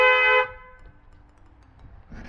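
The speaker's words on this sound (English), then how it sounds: "I'm gonna press the horn right now." An upgraded truck horn on a Nissan Xterra gives one loud, steady blast lasting under half a second, then cuts off, leaving a quiet background with faint rumble.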